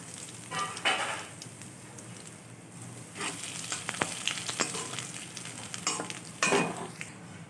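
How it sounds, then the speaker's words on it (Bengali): Grated ginger fries in oil, sizzling quietly in a pan, with a few louder hissing bursts and light scraping of a utensil. "আদাটা তেলের মধ্যে একটু ভাজা হলে"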